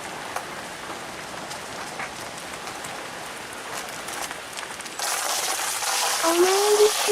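Falling water at Iwao waterfall in Yanai, Yamaguchi, heard as a steady broadband rush that swells louder in the last seconds, with a brief chirp near the end.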